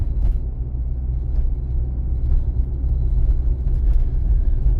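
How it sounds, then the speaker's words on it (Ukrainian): From inside a manual-gearbox car driving in third gear at 45 km/h on a driving-test route in Cherkasy, a steady low engine and road rumble fills the cabin continuously, loud and even, with no speech. "Зараз у мене швидкість 45 км на годину. Я рухаюсь на третій передачі, у мене механічна коробка передач."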